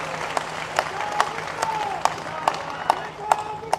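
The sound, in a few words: audience applause for the MP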